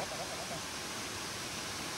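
Waterfall pouring nearby, a dense, steady hiss of rushing water filling the whole stretch with no break, with faint voices briefly mixed in.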